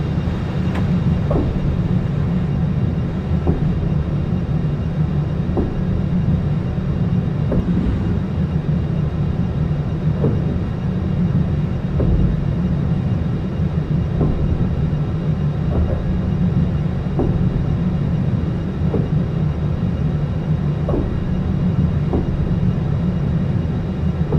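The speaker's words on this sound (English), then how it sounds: "One thing that I don't like about OpenRails is the exterior sounds coming from the train, which is pretty unrealistic." Exterior sounds of a train in the OpenRails train simulator video game: a loud continuous rolling rumble with regular rhythmic clacks of wheels over rail joints, steady for the whole stretch.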